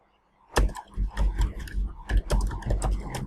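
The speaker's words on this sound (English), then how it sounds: "So I can type just like that." Bursts of typing on a computer keyboard, sharp close clicks in uneven clusters after a brief quiet start, fairly loud with some heavier thuds among the keystrokes.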